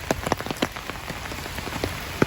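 Rain falls steadily outdoors on a woodland day out, with a constant hiss and scattered distinct drops pattering close by, and no voices present.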